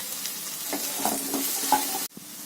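Potatoes stirred into frying onion and tomato for a hotel-style veg salna, a steady close sizzle with soft scraping stir strokes, then the frying noise drops sharply near the end.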